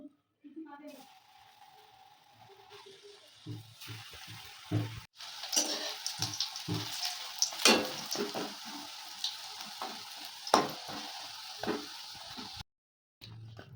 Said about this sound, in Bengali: এবার আমি বড়ার সাইজে ভেজে নেব।